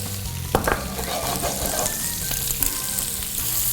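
Glazed pork chop sizzling loudly in a pan with apricot preserve and balsamic vinegar, a dense continuous frying hiss with light stirring scrapes, close up and alone.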